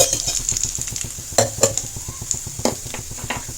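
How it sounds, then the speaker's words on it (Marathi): Fine semolina roasting for sheera in a pan with dry fruits, a spoon scraping in quick regular strokes over a soft sizzle, with occasional louder clanks of metal on the pan, close up. "आता हा रवा चांगला भाजून घ्यायचा."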